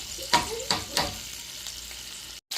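Oil fries and sizzles in a pan with a steady, soft crackle, broken by a few sharp clinks of a utensil near the start.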